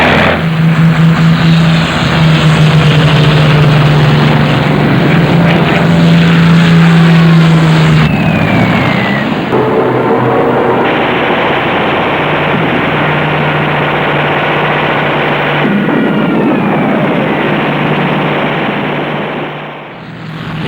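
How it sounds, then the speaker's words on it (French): Droning propeller engines of Stuka dive bombers and other bomber aircraft fly overhead over southern England in 1940, a loud sustained roar with shifting pitch and revving swells across the whole stretch. "il lance ses Stuka et autres bombardiers sur le sud de l'Angleterre"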